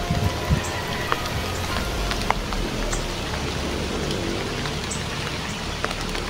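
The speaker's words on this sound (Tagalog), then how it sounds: "Malakas pa yung ulan doon banda mga kaidol." Heavy rain falling steadily, a dense, even hiss of drops on surfaces with scattered sharper patters and splashes, close and constant throughout with no voices.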